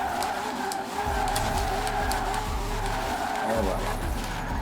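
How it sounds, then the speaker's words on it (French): A car drifts in Forza Horizon 4, engine revving in repeated rising surges while tires squeal loudly and continuously, with someone talking over the action. "Voilà un petit drift"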